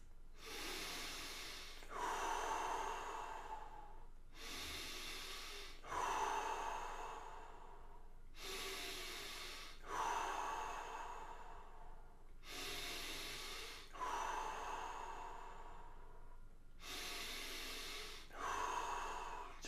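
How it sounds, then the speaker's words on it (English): Deep breathing in a breathing session, a rhythmic cycle of long breathy inhales and exhales repeating about every four seconds, close and fairly quiet, with no talking. "Breathe deeper."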